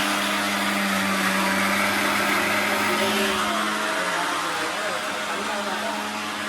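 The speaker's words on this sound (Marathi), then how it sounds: "आणि आता मिक्सर लावणार आपण" An electric mixer grinder blends chutney with a loud, constant whirring drone that stays steady throughout, with faint speech barely present in the background.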